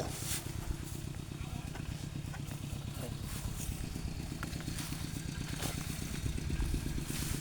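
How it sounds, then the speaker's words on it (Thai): A tractor engine putters steadily at a low idle throughout, close by, with a rhythmic chugging, thumping rumble that barely changes. "ทีมงานน้องๆเพิ่นเอารถไถมาแล้วพี่น้อง"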